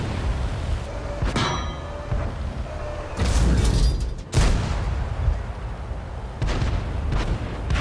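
A T26E4 Super Pershing fights a VK in World of Tanks, with loud cannon booms and metallic clanging hits in several sharp bursts over a rumbling engine background.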